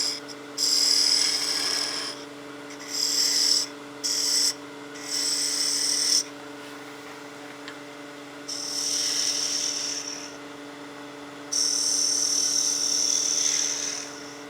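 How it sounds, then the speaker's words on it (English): A parting tool cuts into a wooden Christmas gnome blank spinning on a lathe, giving several bursts of high, screechy scraping with short pauses between them over a steady low motor hum. "Parting that down a little ways just to give me clearance for my gouge."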